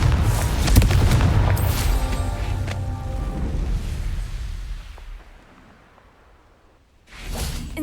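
A Confringo fire blast spell bursts in Hogwarts Legacy, a loud booming explosion with a whooshing rush that tails off into quiet, followed by a fresh burst of sound near the end.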